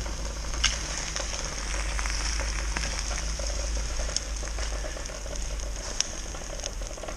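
A punctured LiPo battery hisses and fizzes steadily with bubbling, a dense continuous sizzle close by, dotted with sharp crackling pops and with no talk.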